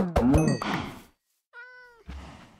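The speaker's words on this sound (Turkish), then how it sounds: "Ha, kedi bak." A cat in the Minecraft video game meows once, a short clean tonal cry after some thumping game sounds, followed by another dull game thud.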